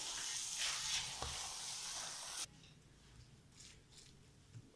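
Carrot halwa (gajar ka halwa) roasting in a pan, giving a soft, faint sizzle that drops away abruptly halfway through, leaving a quieter low hiss with occasional light stirring.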